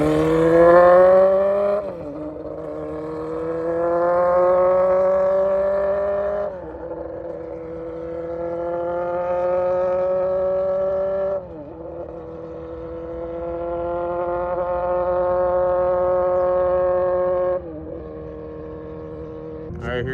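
A 2019 Yamaha R6 with a full Akrapovic exhaust roars as it accelerates hard, its exhaust pitch climbing and then dropping at each of several gear shifts, loud and close.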